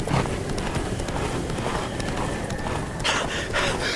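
Geralt's horse Roach gallops in The Witcher 3, with steady hoofbeats pounding close and loud throughout, plus a brief breathy burst near the end.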